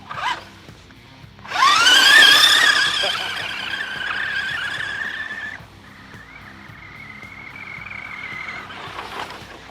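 A Kyosho Big Brute RC truck tears through tall grass, its motor whining loud and high as it revs hard, then settling into a steadier drone that fades somewhat as it drives on.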